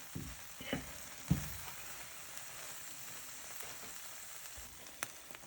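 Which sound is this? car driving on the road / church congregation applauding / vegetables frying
vegetables frying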